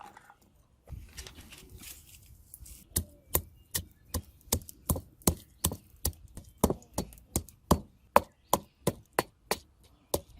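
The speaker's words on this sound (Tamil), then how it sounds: "ஒரு தேக்கரண்டி நச்சீரகம், ஒரு தேக்கரண்டி மிளகு, அதுக்குள்ள உள்ளியும் போட்டு இடிப்போம்" Pepper, cumin and garlic pounded in a mortar for a Jaffna crab curry, a long run of sharp, evenly spaced thuds, close and loud, following a few quiet seconds of faint handling.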